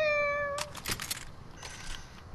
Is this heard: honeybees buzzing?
no